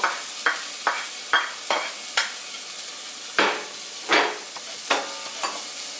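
Peas, carrots and onion fry in a pan for samosa filling, a steady sizzle punctuated by regular loud scraping strokes of a spoon stirring, close up, with no talking.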